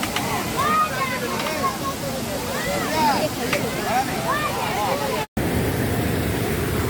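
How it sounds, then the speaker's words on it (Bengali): Water of a waterfall splashes and sloshes steadily nearby, a dense, continuous wash of sound with faint chirping calls above it and one brief dropout near the end. "ঝর্ণার স্বচ্ছ পানি"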